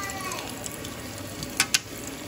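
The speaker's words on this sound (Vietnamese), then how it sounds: "Em chiên lại cho nóng nha cả nhà." Vietnamese pork patties are refried in a pan to warm them, giving a steady soft sizzle of hot oil with a couple of sharp crackling pops near the end.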